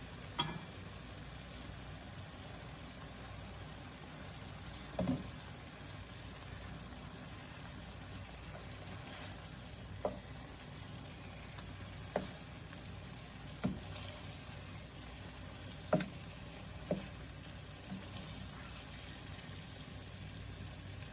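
Salmon fillet frying in a pan, a steady low sizzle running throughout, broken now and then by sharp clicks and taps of a utensil against the pan.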